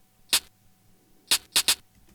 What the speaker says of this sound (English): a little bit of a shaker